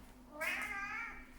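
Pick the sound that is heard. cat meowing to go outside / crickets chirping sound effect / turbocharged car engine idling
cat meowing to go outside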